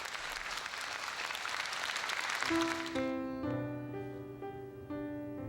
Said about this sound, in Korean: 그 벅찬 사랑에 뜨거운 박수로 화답했다